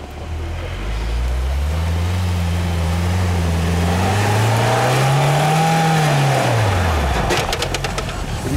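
A UAZ Patriot off-road SUV revs hard on rough terrain, its engine droning loudly with pitch rising and falling as it strains to spin a loaded wheel, a continuous close roar that fades away at the end.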